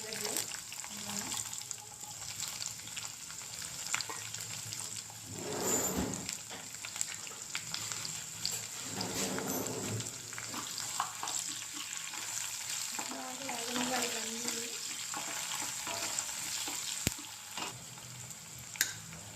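Cumin and two dried red chillies frying in tempering oil for a bitter gourd fry, a soft steady sizzle with occasional stirring scrapes and clinks, quiet and close, with a voice speaking over it at times.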